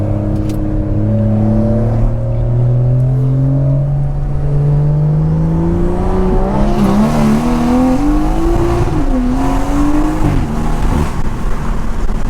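A BMW 340i with a B58 engine accelerates hard from inside the car, its loud engine tone climbing steadily in pitch, then dropping at a gear shift and rising again, with no talking.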